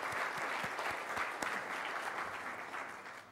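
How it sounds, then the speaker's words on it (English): Congregation applause at a Sunday service, dense continuous clapping from a crowd at moderate distance, steady throughout with slight fading toward the end. "And beautiful applause, because you do great work in our community."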